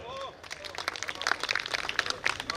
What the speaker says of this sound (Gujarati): છૂટક તાળીઓ બદલ ધન્યવાદ